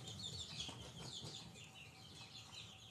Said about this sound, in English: We have 20 baby chicks and 3 ducks in the house